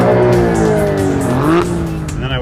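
A McLaren supercar set to race mode and shifted into drive gives a loud, steady engine drone with rising pitch toward the end, close to the microphone.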